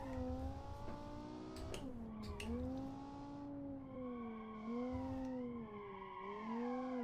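Car in the BeamNG driving game doing a handbrake turn while understeering badly, tires squealing in long wavering tones over a steady engine drone, alone and moderately loud throughout.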